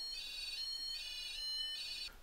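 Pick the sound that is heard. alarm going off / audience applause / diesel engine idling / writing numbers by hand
alarm going off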